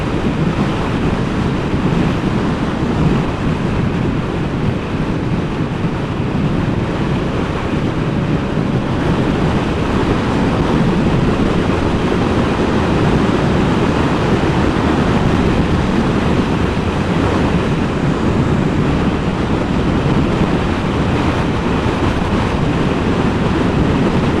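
Strong wind roars steadily across a microphone at the top of a hill, a dense, continuous rumbling buffet that lasts throughout with no break and no voices.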